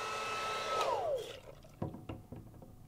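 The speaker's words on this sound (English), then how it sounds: "We've got a running hair dryer, and I'm just going to plop this in the water." A running hair dryer whirs loudly, then its whine slides sharply downward as it is dropped into bathtub water, followed by a few soft splashes and bubbling gurgles as the motor dies.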